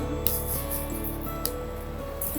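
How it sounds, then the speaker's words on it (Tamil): Mustard seeds frying in hot oil for a fenugreek home remedy: a close, steady sizzle with sharp pops and crackles scattered through it. "கடுகு சேர்த்து வறுத்துடணும். கடுகு பொரிய ஆரம்பிச்சதும் பெருங்காயம் சேர்த்துக்கலாம்."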